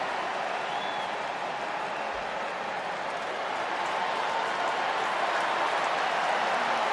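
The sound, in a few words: football stadium crowd applauding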